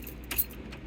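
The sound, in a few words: car ignition key being turned off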